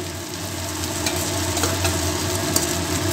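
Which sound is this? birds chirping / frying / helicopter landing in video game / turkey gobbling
frying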